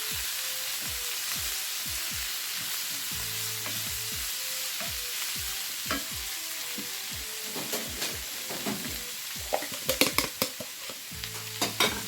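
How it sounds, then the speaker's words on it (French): Sliced beef and onions stirred in a hot frying pan, a utensil scraping and clinking in repeated strokes over a steady close sizzle, growing busier with sharp clatters toward the end. "Je rajoute la viande et je mélange."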